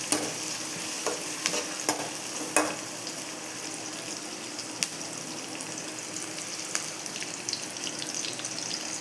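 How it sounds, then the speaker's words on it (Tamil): Small onions sautéing in a pan for bitter gourd kuzhambu, a steady soft sizzle with occasional stirring scrapes and clinks near the start, close and moderate, no voices. "நீங்கள் சின்ன வெங்காயம் போட்டு செஞ்சிங்கன்னா நல்லாயிருக்கும்."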